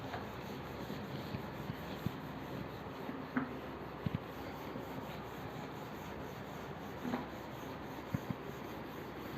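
A whiteboard being wiped clean with steady scrubbing strokes, soft and close, broken by a few faint taps and knocks, with no one talking.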